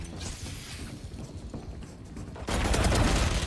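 Rapid automatic gunfire and volleys of shots from a video game shootout, a dense continuous burst that swells louder and harsher near the end.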